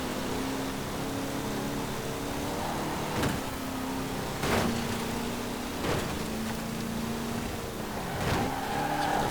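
Holden muscle cars race in the video game Forza Horizon 4, their engines a steady, droning roar with several louder whooshes as cars pass close by.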